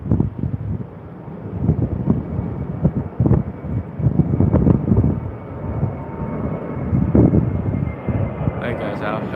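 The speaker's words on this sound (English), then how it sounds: "There goes our Hobart flight." A passenger jet departs on a flight to Hobart, its broadband engine roar rising and falling as it passes, with voices talking nearby over wind buffeting the microphone.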